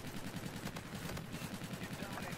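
Rapid automatic gunfire in the shooter game Call of Duty: Infinite Warfare, a dense continuous rattle of shots at close range, quite low in level.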